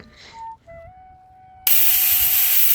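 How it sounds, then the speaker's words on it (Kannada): A pressure cooker of mutton sambar whistles: a loud, steady hiss of venting steam erupts suddenly partway through and continues, after a few faint tonal beeps in a quiet room. "ಕುಕ್ಕರ್ ಲಿಡ್ನ ಕ್ಲೋಸ್ ಮಾಡಿ 3 ವಿಸಿಲ್ ಕೂಗಿಸ್ಕೋಬೇಕಾಗತ್ತೆ"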